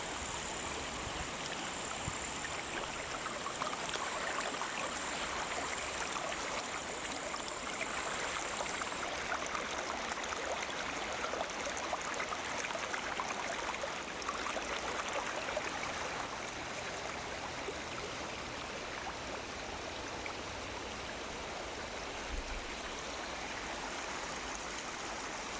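Steady rushing of a clear river stream, close and continuous, a dense wash of flowing water with slight shifts in intensity and no talking.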